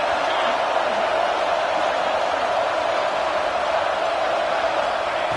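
A stadium crowd roars during a Notre Dame versus Clemson college football game, a dense, continuous wash of cheering and noise at a steady loud level with no breaks, with no talk over it.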